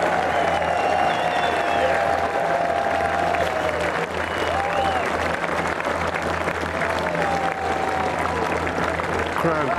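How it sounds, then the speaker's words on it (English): A large golf crowd at the British Open applauds and cheers steadily after Tom Watson's shot to the green, a continuous roar of clapping with a commentator's voice faintly over it. "Crowd going wild."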